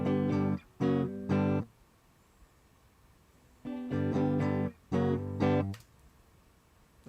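Dry, unprocessed electric guitar taken straight from a DI box, heard alone as two separated bursts of strummed or picked chords with a clean, thin attack and short silent gaps between phrases.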